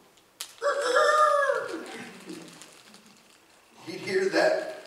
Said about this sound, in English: that morning rooster echoing out there